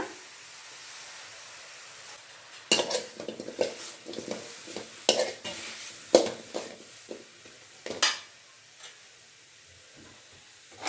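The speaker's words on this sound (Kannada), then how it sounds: "ಹಾಗೆ ಎರಡು ಟೊಮೆಟೊ ಸ್ವಲ್ಪ ಕೊತ್ತಂಬರಿ ಸೊಪ್ಪು ಹಾಗೆ ನಾಲ್ಕು ಈರುಳ್ಳಿ ಇಷ್ಟು ಹುರ್ಕೊಂಬಿಡೋಣ" Chopped tomato, onion and coriander are stirred in a pan: a quiet opening, then irregular close scrapes, taps and light clinks of a spoon against the pan, with no talking.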